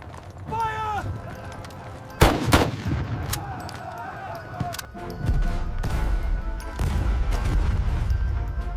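Gunfire volley in a staged 1898 Battle of Omdurman battle scene: one sharp, loud burst of shots rings out near the middle, amid a dense din of shouting voices, movement and hoofbeat-like clatter.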